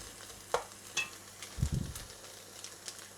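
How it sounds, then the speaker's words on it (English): Beef mince sizzles quietly in a pan, a soft steady crackle broken by a few clinks and a scraping stir, close by, with nobody speaking. "They're sizzling away nicely."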